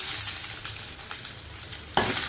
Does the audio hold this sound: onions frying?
yes